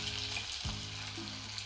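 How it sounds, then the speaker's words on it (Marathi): Chopped onion sizzles in hot tempering oil with mustard seeds, cumin, bay leaf and curry leaves, a steady close frying crackle with a brief stirring scrape partway through. "कांदा अर्थातच सोनेरी रंगावर परतून घ्यायचा"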